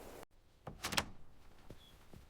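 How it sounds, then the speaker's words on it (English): A garden gate swinging shut, a short creak and a soft thunk of the latch, then a few light knocks as it settles, close by and quiet. "I close the garden gate."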